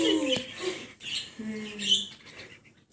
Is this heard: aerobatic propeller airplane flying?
no